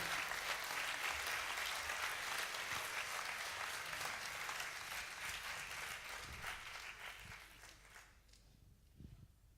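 An audience at the finale of a competition applauds the winning woman, a dense, sustained burst of clapping from many people that gradually thins and fades out near the end, leaving a few scattered claps.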